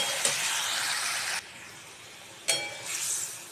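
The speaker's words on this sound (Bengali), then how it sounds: "আর পোস্তর বাটিটা ধুয়ে আমি একটু এখানে জল দিয়ে দিচ্ছি।" Water poured into a hot pan of onions and poppy seed paste makes a loud, hissing sizzle that cuts off abruptly, then flares up again after a short quieter gap. No talk is heard.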